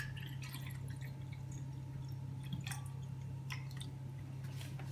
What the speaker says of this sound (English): First, take 3 tablespoons mixed fruit juice